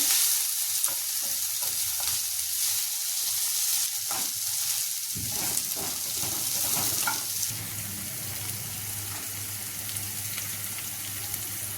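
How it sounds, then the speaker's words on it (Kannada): Drumstick leaves and urad dal frying over a low flame, a steady close sizzle with scraping stirs in the first half, easing into a softer, even hiss afterward; no talking. "ಎಲ್ಲನೂ ಒಂದ್ಸಾರಿ ಮಿಕ್ಸ್ ಮಾಡೋಣ ನೋಡಿ ಸಣ್ಣ ಉರಿಯಲ್ಲಿಟ್ಟು ಫ್ರೈ ಮಾಡಬೇಕು"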